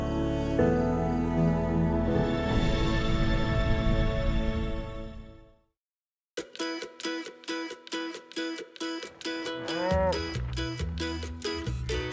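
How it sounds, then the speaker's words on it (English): Highland cattle in the North Carolina mountains give a loud, drawn-out moo lasting several seconds; after a short silence, rhythmic music takes over. "I think the reason why people are so captivated by the Highland cattle is they're just majestic beasts."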